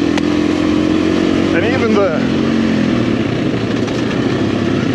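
A PR7 motorcycle ridden on roads in Portugal, its engine giving a steady loud drone throughout, with someone talking over it.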